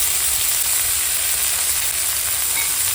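Fenugreek greens sizzling in hot oil, a loud continuous close frying hiss with no pauses.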